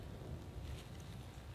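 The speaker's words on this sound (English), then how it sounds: "Thunder was rumbling really close and the freaking lightning" Thunder rumbling close by during a thunderstorm on the Continental Divide Trail, a steady deep low roar with rain hiss over it, loud and continuous with no voices.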